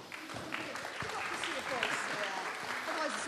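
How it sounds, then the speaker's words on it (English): Clapping from a conference audience during a participation session as a group walks up, fairly quiet and scattered, with voices talking and murmuring over the applause throughout. "give them a big round of applause?"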